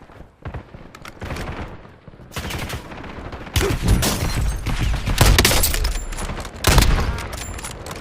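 Gunfire aimed at the player in the Warzone video game: dense bursts of automatic shots and loud cracks that grow heavier midway, overlapping volleys with sharp impacts, no talking.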